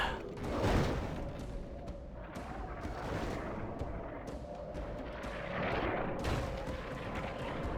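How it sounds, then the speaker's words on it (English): Siege-battle gunfire in the Medieval 2 Total War video game as ballistas shoot at walls, towers and a gate: a dense, steady rumble of distant booms and impacts with a swelling surge near the start and another late on. "Apparently that wall doesn't actually stop ballista fire."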